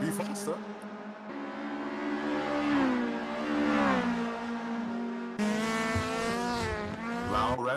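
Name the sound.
VW Golf GTI race car engine at speed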